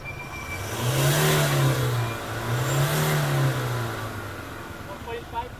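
A Mitsubishi Lancer car engine revs up to about 4,000 RPM, rising to a sustained drone, dipping, then surging again before settling near idle. Nearby voices speak over it.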